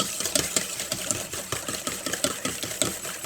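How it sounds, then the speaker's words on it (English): Three large eggs are whisked in a bowl until smooth, making a quick, rhythmic run of close clicking strokes that stays steady and moderately loud throughout. "first you want to go ahead and whisk the eggs up and get them nice and smooth"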